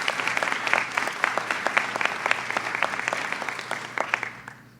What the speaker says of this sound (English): So how about an applause for this team?